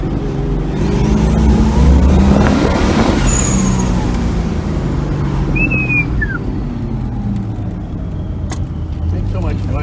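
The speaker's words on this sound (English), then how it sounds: "Makes so much noise when them fucking turbos kick in" A 7 psi turbocharged FB Mazda RX-7 running a small-block Chevy swap accelerates hard on a test drive, a steady loud engine roar with a rising turbo whistle and brief chirps, heard from inside the car.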